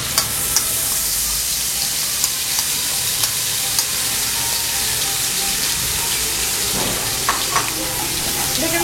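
Masala paste for Bengali Katla fish kalia sizzling and frying steadily in a pan, a dense continuous hiss with a few scraping stirs.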